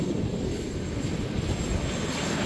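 Helicopter flight over the Mount Cook area, a steady broadband rotor and engine roar that stays close and loud throughout, with no voices over it.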